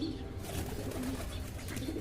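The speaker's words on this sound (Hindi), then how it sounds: "और ये कबूतर है जी टैडी" A pigeon coos close by, a soft, throaty, rolling call repeated over a low background murmur.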